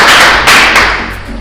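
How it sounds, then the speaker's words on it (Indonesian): Audience applause at a marketing plan presentation: a short burst of clapping from a crowd, loud and close, with no speech over it. "Berikan aplaus dulu"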